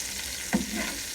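Chicken burger patty hitting a hot frying pan after being flipped, a soft thump followed by a steady close sizzle with no talk.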